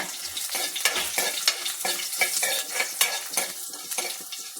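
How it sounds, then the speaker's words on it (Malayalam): Mustard seeds, ginger, garlic, shallots and red chillies fry in hot oil for a Kerala pulissery, a steady loud sizzle with rhythmic stirring scrapes about every half second, close up and without talk. "കടു വറുത്തിട്ട് അതിനകത്തോട്ട് നമുക്ക് രണ്ട് മൂന്ന് ചുമന്ന മുളക് കൂടി ഇടാം"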